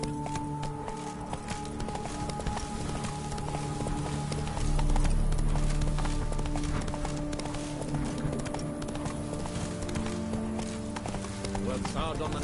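Roach, a horse in The Witcher 3, gallops with steady rhythmic hoofbeats over game music and ambience, and a voice speaks over it.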